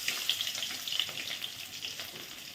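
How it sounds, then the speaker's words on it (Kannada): Tempering spices sizzle in hot oil for a South Indian rasam, with mustard seeds, cumin, dried chillies and crushed garlic giving a bright, crackling hiss with small pops throughout. "ಒಗ್ಗರಣೆಗೆ ಸಾಸಿವೆ, ಜೀರಿಗೆ, ಒಣಮೆಣಸಿನ್ಕಾಯಿ, ಜಜ್ಜಿಟ್ಕೊಂಡಿರುವ ಬೆಳ್ಳುಳ್ಳಿ"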